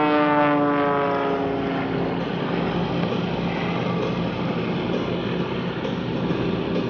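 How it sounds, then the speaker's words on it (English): A propeller airplane flies aerobatic maneuvers at the 2022 Greenwood Lake airshow, its engine droning steadily and loudly, with a falling pitch at the start that then settles into a sustained roar throughout. "as we watch Gary Rauer turn that airplane all ways but straight into a quick Lubschevac maneuver"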